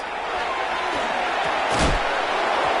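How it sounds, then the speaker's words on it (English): A hard tackle in Madden 26 football lands as one dull, heavy thud about midway through, jarring the ball loose, rising briefly out of a constant roar of stadium crowd noise. "Defender arrives right as the ball does, and the hit knocks it free."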